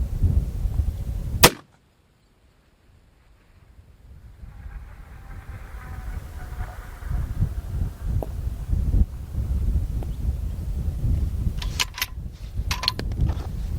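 A .308 Winchester rifle fires at a target 3000 yards away. One sharp, loud crack is followed by a brief hush, then windy outdoor rumble and a few faint clicks later.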